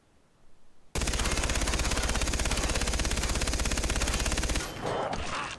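A light machine gun in the video game Far Cry 3 fires one long, loud, rapid sustained burst of about four seconds, preceded by a brief quieter sound and followed by fading echo.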